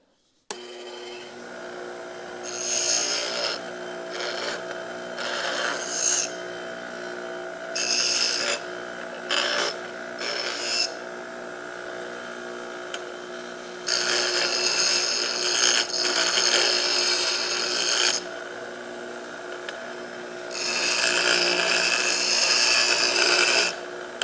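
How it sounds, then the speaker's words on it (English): Metal edges and corners of quick jack wall hanger parts are cleaned up before welding: bursts of harsh rasping and grinding, some short and some several seconds long, separated by brief pauses over a steady background hum. "I'll just clean up all these edges and corners before I weld them together"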